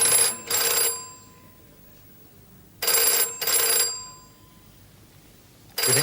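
A telephone rings in double bursts, two quick rings, a pause, two more, then a third cycle beginning, loud and close in a quiet room with no one speaking.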